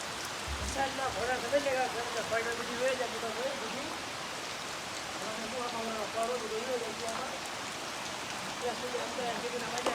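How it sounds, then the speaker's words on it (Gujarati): The season's first monsoon rain falls steadily and patters on surfaces, a constant soft hiss with faint voices in the background. "સિઝનનો પહેલો વરસાદ આવી ગયો છે"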